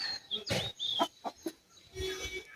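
Chickens cluck and squawk in short bursts nearby, with a rooster-like call among the farmyard noise.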